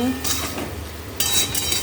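A spatula or spoon scrapes and stirs ghugni in a hot kadai, making two short metallic scraping strokes over a low kitchen hum.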